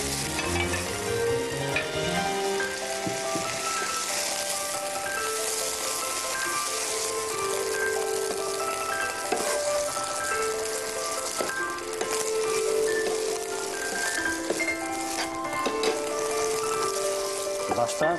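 Mung bean sprouts stir-fried in a hot pan for a Chinese dish with soaked dried shrimp, giving a steady close sizzle with stirring scrapes throughout, over tuneful background music.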